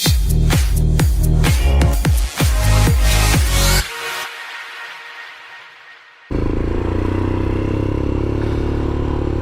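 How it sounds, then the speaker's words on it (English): Royal Enfield motorcycle fitted with an aftermarket Lextech exhaust, heard as loud repeated revving blips for about four seconds, then a quieter lull before a steady, close idle rumble returns. "The Lextech exhausts sound really good."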